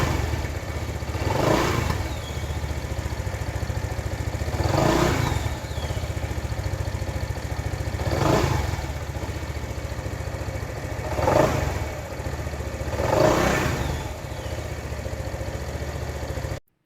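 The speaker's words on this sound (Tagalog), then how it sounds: "Pakinggan naman natin mga idols ang kanyang pinaka-actual na exhaust sound ng ADX" Bristol ADX 160 version 2 motorcycle idling nearby, a steady mid-pitched engine rumble with a soft rhythmic pulse and a gentle blip of throttle roughly every three seconds.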